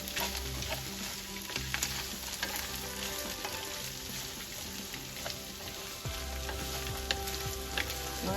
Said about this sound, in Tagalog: Ngayon, hahaluin na natin.